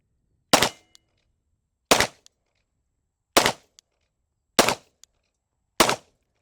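Five sharp 9mm shots from a Glock 45 pistol fired at a steel target, evenly spaced about a second apart, each followed by a faint short ping of the hit on steel, loud and close with no talking.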